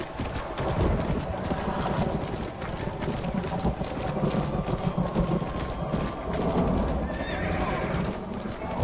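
Horse hooves clip-clop steadily at a walking pace over a busy outdoor ambience in the video game Red Dead Redemption, with a horse whinny in the mix.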